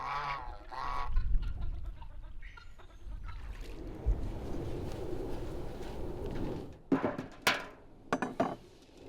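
Waterfowl at a village pond honk and quack in bursts, with a cluster of loud calls near the end over a steady outdoor background.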